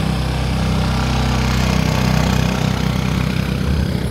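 Motorcycle engine running steadily with two riders aboard, a continuous close, loud drone with a low rumbling idle-like tone throughout, no talking.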